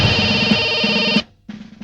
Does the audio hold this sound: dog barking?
no